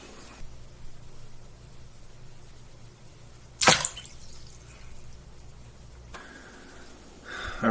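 An OD green SMAEL 8010 tactical wristwatch is plunged into water, giving one sharp splash midway through an otherwise quiet, low hum, with a softer watery rustle near the end.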